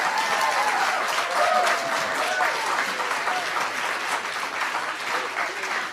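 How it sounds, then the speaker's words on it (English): An indoor audience applauds, with dense, sustained clapping filling the room, loud and steady throughout. "just had an entire audience of people applaud you on this subject"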